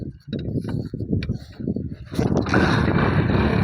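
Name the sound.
motorcycle engine starting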